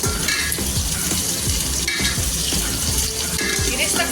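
Sliced onions sizzle and fry steadily in hot oil for biryani beresta, with occasional scraping stirs cutting through the continuous loud crackle; no one speaks.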